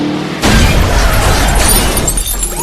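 A car slams into a parked police patrol car with a sudden loud crash of crunching metal and shattering glass, followed by a sustained rumble of debris and noise that slowly settles.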